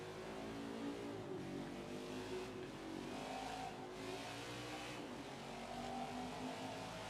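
Race cars in NASCAR 21 rev and climb back up to speed after a wreck at Richmond, a steady, loud engine drone with rising pitch sweeps and faint tire noise, no voices.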